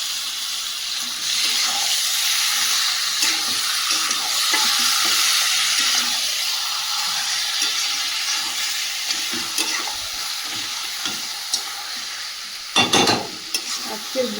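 Chicken fries in a hot pan with a continuous loud sizzle and hiss while it is stirred, the utensil scraping now and then, and a sharper clatter of cookware near the end, all close and without speech.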